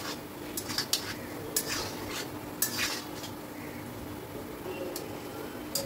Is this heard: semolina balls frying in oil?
yes